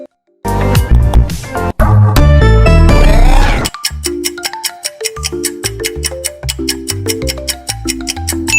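Cartoon Network audio logo: a loud, dense burst of layered musical sound for a few seconds, followed by a bouncy sequence of short, punchy stepped notes in a steady rhythm, with no voices.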